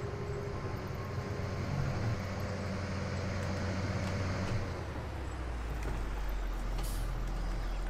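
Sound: truck air brake sound from video game

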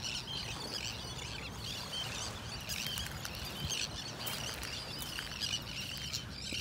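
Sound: birds screeching on a beach in North Naples, Florida

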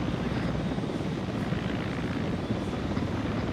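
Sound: helicopter in a video game

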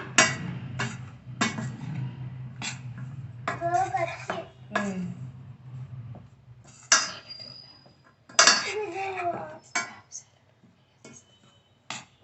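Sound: mixing mango pieces with chili powder for pickle

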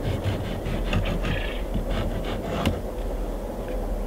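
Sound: wooden board leveling poured concrete in formwork

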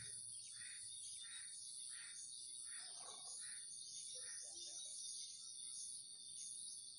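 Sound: baby birds chirping inside a nest

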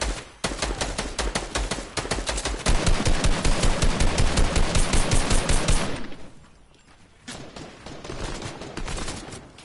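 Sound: gunfire in video game

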